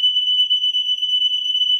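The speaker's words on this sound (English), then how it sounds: "I'll silence the alarm. It's kind of loud." A liquid level sensor's relay-driven alarm sounds as a loud, steady, piercing electronic tone that holds continuously without a break.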